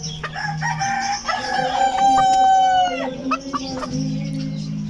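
A Polish and Frizzle Polish hen and rooster cluck close by, and one bird lets out a drawn-out crow in the middle.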